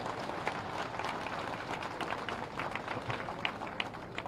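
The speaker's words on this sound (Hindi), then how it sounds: "उनके सम्मान में एक बार जोरदार तालियां बजाकर सम्मान करें।" A crowd at an outdoor political rally in Lakhanwas, Rajgarh district, claps to welcome the chief minister, a fairly faint, distant patter of many hands running steadily for a few seconds.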